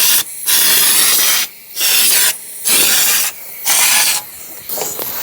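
Loud bursts of rustproofing wax sprayed under a Proton Impian car, four or five long hissing blasts separated by short pauses, very close.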